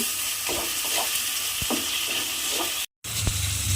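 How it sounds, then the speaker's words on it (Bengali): A spice mixture with ginger paste sautés in a pan, giving a steady close sizzle broken by repeated scraping stir strokes and a brief silent gap near the end. "আদা বাটা দিলাম দিয়ে আবারও কিন্তু মশলাটা একটু কষিয়ে নেব"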